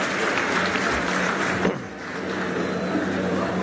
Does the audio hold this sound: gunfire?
no